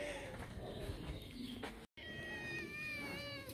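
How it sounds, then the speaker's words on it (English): A mother cat meows in a home, a drawn-out tonal call heard clearly in the second half after a brief gap, with indistinct household noise beforehand. "Mama cat just coming to say hi to Diego"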